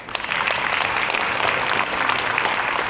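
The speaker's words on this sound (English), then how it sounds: "Let's give a round of applause." Audience applause at a business sourcing seminar, a dense steady wash of clapping held at an even, fairly loud level for the whole stretch with no voices over it.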